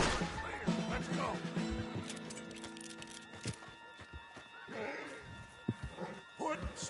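A horse whinnies in the open-world Western game Red Dead Redemption 2, a high neigh near the start with hoof clops and thuds, faint and low in the mix under game voices and music.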